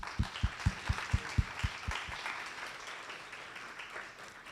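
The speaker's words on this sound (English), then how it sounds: "Let's give them a big round of applause." A handful of loud, evenly spaced claps open a round of applause at a digital advertising workshop, then fade into a soft, scattered patter of clapping from a modest audience.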